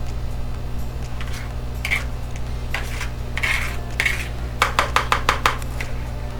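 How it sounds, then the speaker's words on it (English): An electric hand mixer beats an egg into coffeecake batter, its motor humming steadily and close while the beaters clink against the bowl in a quick run of sharp ticks. "I'm going to just mix that in. With a hand mixer."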